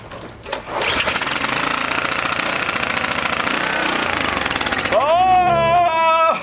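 A small carbureted engine, suspected of a carburetor fault, chatters loudly for several seconds before dying out, with a voice rising over the end.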